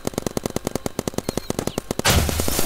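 A paintball gun in the Roblox game Big Paintball fires a rapid, even string of about twenty sharp shots, ending in a louder, noisier burst.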